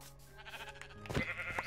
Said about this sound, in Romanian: Mai e acolo o oaie.